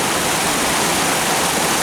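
Water rushes steadily on the Journey to Atlantis water ride, a loud, dense, continuous hiss like a waterfall, with no voices.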